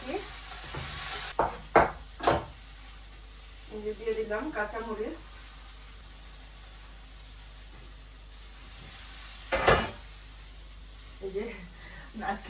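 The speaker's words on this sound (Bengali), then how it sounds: "এখন এই মশলাটারে জল দা গুলিয়ে মিক্স করে নিই" A spoon stirs spice paste with water for a home-cooked dal, making faint, intermittent scraping and clinking against the bowl with quiet gaps between strokes, and a voice is heard briefly.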